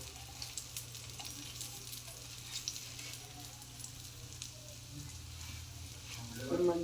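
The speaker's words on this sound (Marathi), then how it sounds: "मंद आचेवर तळून घ्यायचे, चांगली कडक होईपर्यंत तळायचं।" Snacks (chaap) frying in oil on low heat until crisp, giving a steady, faint bubbling sizzle throughout with light stirring clinks toward the end.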